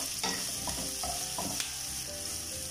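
Onions, green chili, ginger and curry leaves sizzle in hot oil for masala dosa filling, a steady close frying hiss with a few stirring scrapes and clicks.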